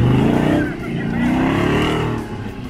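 A 4x4 race car accelerates in a continuous loud engine drone with rising and falling pitch during an off-road racing championship heat, a voice talking over it.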